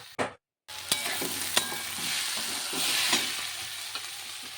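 Bottle gourd frying in hot oil gives a steady sizzle, broken by scraping stirring strokes. A brief dropout comes near the start, and there is no talk.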